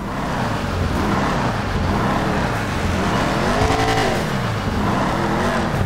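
Chevrolet Camaro engine in GTA Online, a steady loud drone with a rising and falling rev midway, continuous and close throughout with no talk.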